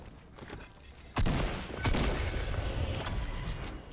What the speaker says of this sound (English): Watch out, they're shooting.